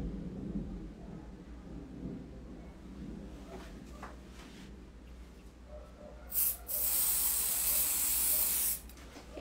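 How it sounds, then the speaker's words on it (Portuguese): A spray can hisses in two loud bursts, the longer one lasting a couple of seconds, sprayed onto chocolate in an Easter egg mold to make it set faster. "Esse spray aqui faz mais rápido o seu trabalho"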